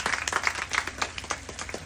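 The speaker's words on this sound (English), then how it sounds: "Let's give Jamie a round of applause for performing such a great and safe show for you all." Audience applause after a live alligator show, a dense patter of many hands clapping at moderate volume from a crowd.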